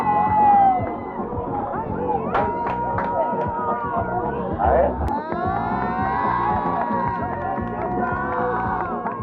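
A crowd screams and cheers excitedly as Drake hands out money, a dense wash of whoops and shrieks with someone talking over the noise.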